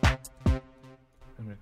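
A Dream Keys synth pluck in FL Studio sounds bright, punchy plucked notes, two strong hits followed by softer, ringing tones, heard alone at moderate loudness.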